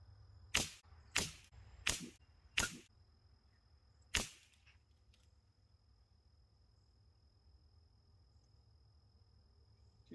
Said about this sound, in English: Let's get the next 5-shot groups put together and